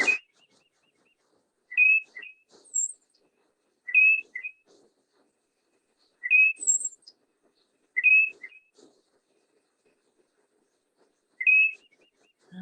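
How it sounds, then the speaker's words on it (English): A tufted titmouse sings clear, whistled two-note phrases repeated about six times at regular intervals, with a few higher faint chirps in between, against a quiet background. "So here's the tufted titmouse."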